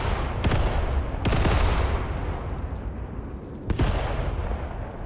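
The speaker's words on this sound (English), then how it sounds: "Here my mortar strike is doing good work." Mortar rounds slam down in the Graviteam Tactics war game. Three heavy, booming impacts come in, two close together early and one later, each trailing off into a low rumble with no voices.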